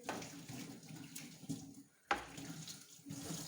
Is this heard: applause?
no